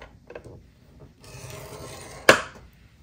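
A piece of paper is scored on a scoring board with a faint scraping rub, followed by one sharp tap, close and quiet with no talk.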